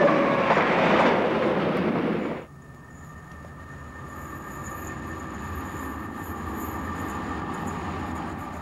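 A British Rail Advanced Passenger Train runs past loudly for about two seconds, then drops abruptly to a fainter, steady rumble with a thin high whine as it recedes.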